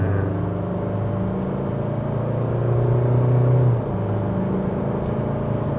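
Isuzu D-Max pickup with a 2.2 Ddi MaxForce diesel engine accelerating on a test drive, a steady close engine drone whose hum rises briefly and then settles back.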